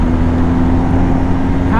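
A 2020 BMW R1250GS boxer twin pulls hard, a loud, steady engine drone with a low hum and a rising tone near the end, heard up close with a voice partly under it.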